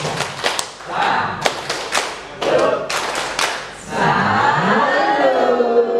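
A group of teachers in a training session gives a patterned rhythmic clap, several sharp synchronized bursts in a set beat, close and loud, followed by a burst of voices talking and laughing.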